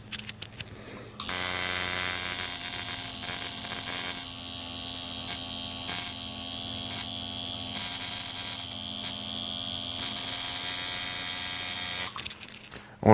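A 798 tattoo machine buzzes without break while lining a tattoo, a close, loud electric drone with a steady pitch that starts abruptly and stops after about eleven seconds.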